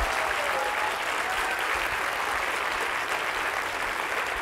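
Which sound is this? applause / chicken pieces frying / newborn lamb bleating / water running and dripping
applause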